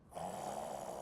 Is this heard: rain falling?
no